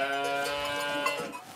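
A sheep at a village sheep show gives one long, loud, wavering bleat close by, lasting over a second and tailing off with faint background noise.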